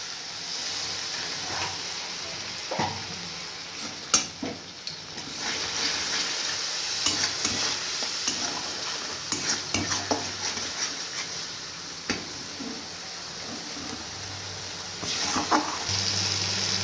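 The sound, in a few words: Kashmiri red chili powder masala frying with a little water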